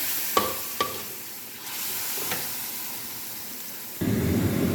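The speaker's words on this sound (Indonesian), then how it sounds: "Diaduk-aduk terus agar tidak lengket di wajannya bumbunya." A ground spice paste sautés in a wok for spicy fish gulai, a continuous hiss of frying with a couple of sharp utensil scrapes and clinks against the pan, the sizzle swelling louder near the end.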